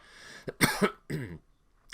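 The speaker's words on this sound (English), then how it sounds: "Yes, cough, cough." A few quick coughs close up, two sharp bursts followed by a rougher throat-clearing cough.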